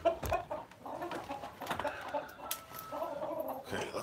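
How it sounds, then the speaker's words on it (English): Chickens clucking and murmuring close by in a farm yard, several birds overlapping in soft irregular calls with a few louder squawks. "Watch out, chickens."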